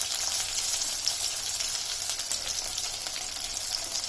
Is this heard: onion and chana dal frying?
yes